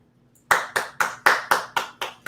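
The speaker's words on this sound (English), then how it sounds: "You guys better be clapping out there." Audience applause from a live call-in radio or podcast show on marketing and sales: seven sharp, evenly spaced clap-like bursts, loud and close, with no talking over them.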